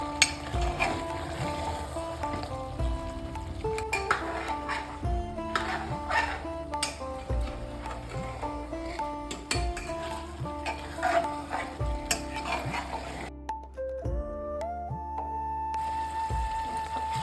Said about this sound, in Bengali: আলুর সঙ্গে আরও বেশ কিছুক্ষণ মাংসটা কষিয়ে নেব।